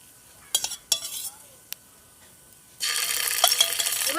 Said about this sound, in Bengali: এবার এগুলোকে অল্প একটু কষিয়ে নেবো